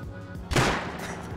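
Single gunshot in the survival video game Rust, one fairly loud, close blast with a short decaying tail over a faint background murmur.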